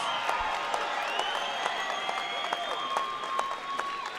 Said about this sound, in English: Let's give both of these fighters a big round of applause.